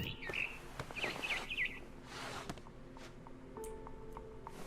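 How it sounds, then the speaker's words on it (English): A barn swallow in What Remains of Edith Finch gives a few quick, thin chirps near the start, then the game ambience continues quietly with soft clicks and scattered tones. "I heard chirping outside my window. It was a barn swallow going back to her nest."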